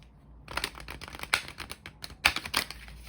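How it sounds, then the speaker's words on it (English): Oracle cards being shuffled by hand, a series of quick papery riffles and flicks coming in bursts, close and fairly quiet, with no talking. "Let's pull some oracle cards."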